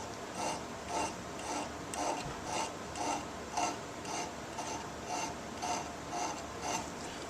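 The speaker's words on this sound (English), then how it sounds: "we're done filing" A metal file rasps across a ball crank handle in slow, even strokes, about one per second, close and moderately quiet with no talking.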